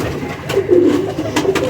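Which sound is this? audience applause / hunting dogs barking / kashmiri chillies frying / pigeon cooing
pigeon cooing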